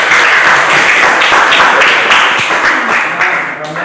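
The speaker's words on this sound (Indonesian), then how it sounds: "tepuk tangan." A classroom group claps and applauds continuously after a student presentation, loud and close, fading slightly toward the end.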